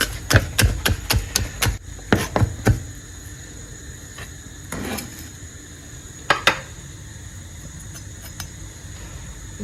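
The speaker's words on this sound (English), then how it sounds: "Start also by chopping our garlic into little pieces." Quick knife strikes chopping garlic on a cutting board, a rapid burst of sharp taps followed by a few scattered chops with pauses between.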